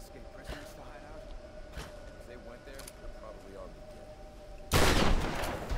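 Shotgun blasts in the Tomb Raider video game, a few scattered sharp reports under steady game ambience, then a loud sustained burst of noise near the end.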